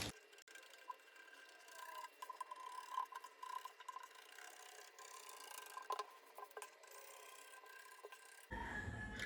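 Scissors cut out fabric pattern pieces for a round neck crop jacket, giving a steady run of faint rasping snips and rubbing that goes on throughout at low level, with no talking.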